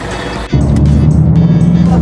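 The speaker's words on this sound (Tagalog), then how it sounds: "So, ito na yung bus na magdadala sa atin papuntang Lake Bled." Bus bound for Lake Bled heard from close by: a sudden step up into a loud, steady low engine drone that holds on without pause.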